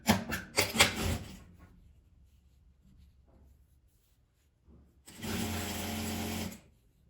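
A domestic sewing machine runs a straight seam to close a folded fabric patchwork pouch with a brief burst near the start, then a steady buzzing run of about a second and a half toward the end, with quiet handling between.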